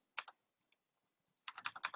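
Quiet typing on a computer keyboard during Java coding: a couple of quick keystrokes, a pause, then a faster burst of clicks close by.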